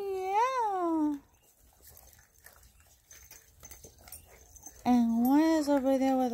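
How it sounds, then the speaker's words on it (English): Golden Retriever puppies feeding beside adult Golden Retrievers give high, wavering whimpers: one long whine at the start and another at the end, with quiet shuffling between. "Oh, you puppies are eating"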